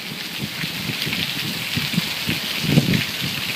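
Steady rain falls outdoors on a surface, a dense even patter that carries on unbroken at a moderate level with no talk over it.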